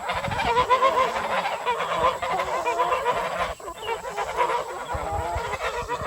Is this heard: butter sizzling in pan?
no